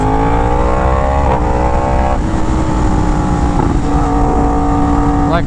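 A Yamaha R1M motorcycle with a crossplane engine revs loudly and steadily up close, its pitch rising and falling with a few sharp throttle blips.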